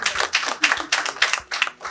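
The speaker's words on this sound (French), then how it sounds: "Je vais déjà vous dire d'applaudir pour vous-même." A small audience at a French training session claps in several short uneven bursts with brief gaps between them, fairly close and with no voices over the clapping.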